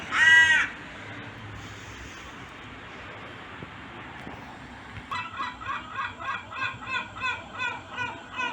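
Crows cawing outdoors: a single loud caw at the start, then a rhythmic run of repeated harsh calls a little farther off, over quiet background.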